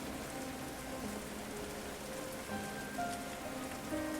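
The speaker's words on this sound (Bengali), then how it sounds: "সুমিত্রার বাবা বৃষ্টির মধ্যে কাঠ কাটছে।" Steady rain pours through a night scene in an animated village horror tale, where a poor farmer chops wood outdoors; the dense, even patter stays constant throughout, with soft sustained tones faintly underneath.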